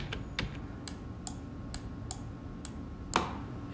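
Bracket keys pressed on a computer keyboard, a series of about ten crisp, faint individual clicks spaced roughly evenly, quiet and close with nothing else heard.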